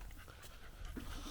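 Dog panting close by at a campsite, quick rhythmic breaths with a faint whimper, brief and fairly soft.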